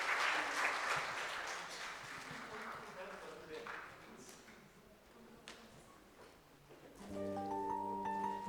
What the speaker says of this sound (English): So I request audience to give them a big round of applause for their great work.